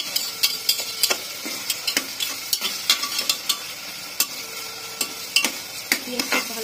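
Onions and garam masala frying and being stirred in a pan, with a steady sizzle punctuated by repeated close, sharp scrapes and clicks of a utensil against the pan, no voices.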